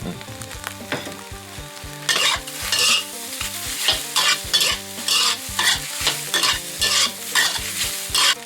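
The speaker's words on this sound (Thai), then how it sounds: "ช่วงนี้ก็ใส่กระเทียมกับพริกซอยมาลงไปเลย" Garlic and sliced chili fry in a hot pan, a loud continuous sizzle punctuated by regular scraping strokes of a utensil stirring against the pan, close up with no talk.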